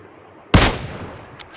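A single loud gunshot from the PUBG Mobile battle royale game on the Erangel map, a sharp close blast with a short decaying tail, followed by a faint second shot.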